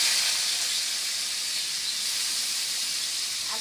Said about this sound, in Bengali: কড়াইতে তেল দিয়ে দিচ্ছি আলু, বরবটি, বাঁধাকপি ভাজার জন্য।